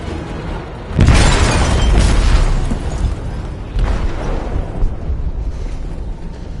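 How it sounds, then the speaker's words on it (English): An explosion goes off in a ship's hold in the video game Detroit: Become Human. It opens with a sudden loud, deep blast, then a long rumbling roar, and a second heavy surge follows a few seconds later before the sound settles. "They detonated an explosive in the hold."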